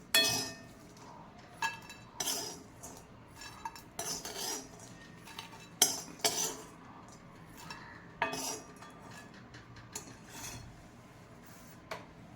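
Roasted dried Bombay duck fish moved into a dish, with a series of sharp metallic clinks and clatters of utensils against plates and pans, irregular and close, between quieter pauses.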